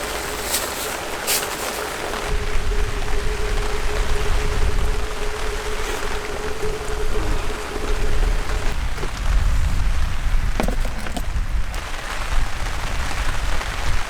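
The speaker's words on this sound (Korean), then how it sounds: "이렇게 빗소리 들려지니까" Steady rain patters on a tent close by at a campsite, a dense continuous hiss with occasional heavier drips, no voices.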